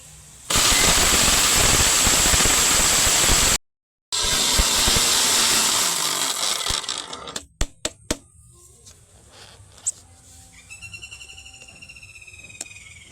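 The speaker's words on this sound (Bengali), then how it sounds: "এইবার এই সমস্ত উপকরণ আমি মিক্সিতে ভালোভাবে পেস্ট করে নেব" A mixer grinder whirs loudly as it grinds homemade dhuna dhup ingredients, including coconut husk pieces. There are two sustained bursts with a brief stop between them, then the motor winds down and leaves quieter clatter and faint noises.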